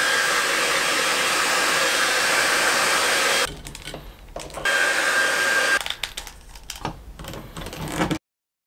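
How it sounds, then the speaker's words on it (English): A hair dryer blows in a steady, loud rush for about three and a half seconds, then the airflow breaks into uneven bursts and handling noises as it is used to warm the joints of a 1/4 scale NECA Spider-Man figure. "I should get the a hairdryer just to warm it up a little bit."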